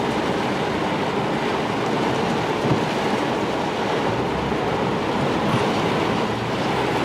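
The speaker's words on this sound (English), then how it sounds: "Wow, it is just pouring over. Look at all this water. Just flowing in." Heavy tropical storm rain pouring down with storm water flowing in, a steady, dense, loud roar of rushing water that stays constant throughout with no talking.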